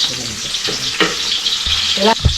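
Garlic sautés in a hot pan with a bright, continuous sizzle and hiss, broken by a few soft stirring knocks close by.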